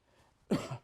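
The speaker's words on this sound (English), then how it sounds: "I've got some bronchitis, so I've got a little cough going on." A single short, close cough from a man with bronchitis at a press conference, one quick harsh burst after a brief quiet moment.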